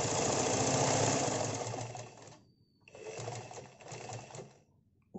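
A sewing machine stitches a shirt collar in a loud, steady mechanical whir, stopping briefly for a pause before running again in a second shorter burst, close and without talk.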